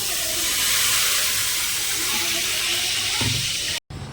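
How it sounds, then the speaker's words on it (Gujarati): Chickpeas for chole are tempered in hot oil in a home kitchen in London, giving a loud, continuous sizzling hiss that runs unbroken for about four seconds before a brief cut near the end. "હવે છોલે વઘારે છે મમ્મી"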